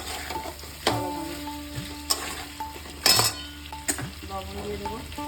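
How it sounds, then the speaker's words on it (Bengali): Potatoes being stirred and fried in a pan for a green banana curry, with a steady low sizzle and several sharp scrapes and clinks of a spatula against the pan, close and fairly loud, no talking. "আলুগুলো ভালোভাবে কষিয়ে নেবো আস্তে আস্তে।"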